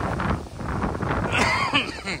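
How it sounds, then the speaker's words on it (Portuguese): Wind and rain sweep a beach near Caravelas in Bahia, Brazil. Strong gusts buffet the microphone with a loud, rushing roar that rises and falls across the short stretch. "Tá chovendo e ventando."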